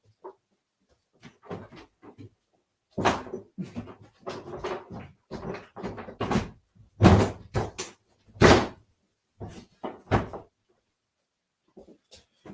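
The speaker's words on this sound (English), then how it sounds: "he's going to bark all the time" A dog indoors gives bursts of barking and panting, loud and close, in irregular clusters separated by quiet gaps.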